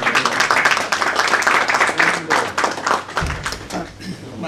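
Audience applause at a book launch in Bacău: a dense, steady patter of many hands clapping for about four seconds, close and fairly loud, easing slightly toward the end.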